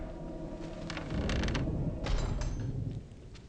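A sanity effect from the video game Eternal Darkness: loud creaking, mechanical grinding textures with bursts of rattling noise, sustained and swelling in the middle before easing off, no voices.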